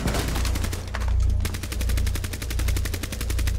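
Rapid automatic gunfire in Rainbow Six Siege during a Bank team deathmatch, loud and close, with continuous bursts of evenly spaced shots filling the whole stretch and no talk over it.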